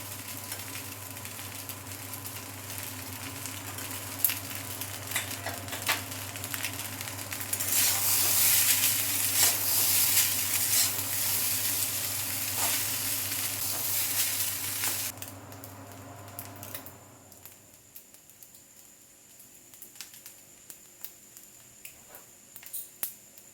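Rice frying in a pan gives a continuous close sizzle that grows louder and brighter partway through, with scraping stirring strokes and a low hum underneath. Near the end it dies down to quiet scrapes and taps.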